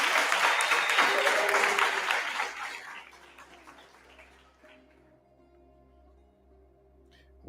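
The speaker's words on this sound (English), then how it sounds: "Let's give Angela Gates a round of applause" Audience applause at a sacred womb gathering, loud clapping that swells at the start and then tapers away over a few seconds into near quiet with a faint hum.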